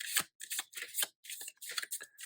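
A True Black tarot deck being shuffled by hand, in short bursts of crisp riffling card noise separated by brief pauses, close and fairly quiet.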